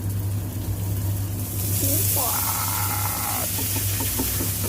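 Mixed vegetables cook in a huge pan for a quiche, a steady broadband sizzle that swells louder partway through over a constant low kitchen hum.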